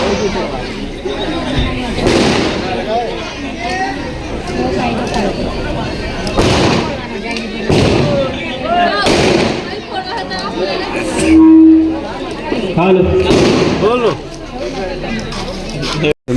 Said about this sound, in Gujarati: સને ફટાકડા બોલાય